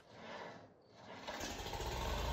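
A cold Farmall tractor engine on a snowy winter morning cranking and struggling to catch, a faint uneven churn that swells into a louder, rougher rumble toward the end.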